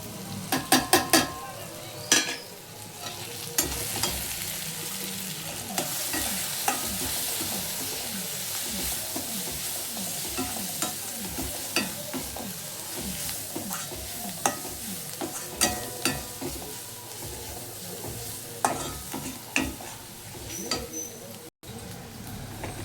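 Steady sizzling of tomatoes and spices frying in a pan, with repeated scraping and stirring strokes throughout.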